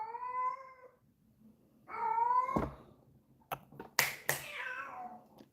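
Indoor house cat meowing insistently, two drawn-out yowls followed by short sharp cries and a couple of clicks, fairly close and alone.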